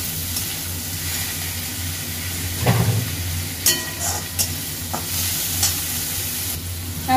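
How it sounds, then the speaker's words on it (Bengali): Chopped tomato and onion fry in a pan at home while a Bengali chicken curry is being cooked, giving a steady, close sizzle with scraping stirs and a few louder clinks of the utensil. "এবার টমেটোটাকে ভালো করে পেঁয়াজের সঙ্গে ভাজবো যতক্ষণ না পেঁয়াজটা এই টমেটোটা একটু নরম হয়।"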